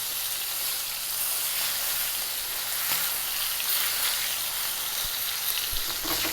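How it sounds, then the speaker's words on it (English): A 29oz bone-in rib eye steak sizzles hard in a pan while being basted with a spoon, a steady, loud, dense crackle and hiss that holds throughout with small spits and pops. "Let's start basting this over now"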